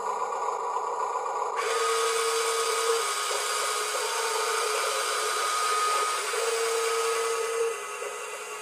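A small electric motor in a Huina 1582 toy dump truck whirs steadily as the tipper moves, a loud buzzing drone with slight shifts in pitch as it runs for several seconds.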